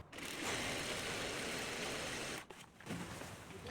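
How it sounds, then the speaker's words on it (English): A sewing machine runs steadily for a few seconds while stitching a straight line along fabric, then stops briefly and starts again more softly, close and quiet. "I'll start sewing on my fabric. I'll be making a straight line on my fabric with an interval of half inches"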